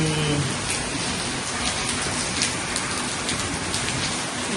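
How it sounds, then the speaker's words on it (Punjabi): Steady, dense rain pours down close by, a constant hiss with scattered drops tapping on a surface throughout. "ਮੀਂਹ ਦਾ ਵੇਖੋ ਪਤਾ ਨਹੀਂ ਲੱਗਦਾ ਕਿਹੜੇ ਵੇਲੇ ਆ ਜਾਂਦਾ"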